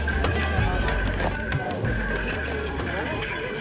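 Horses clip-clop at an outdoor site in Islamabad, a steady run of hoof knocks through loud crowd and street noise with people talking nearby.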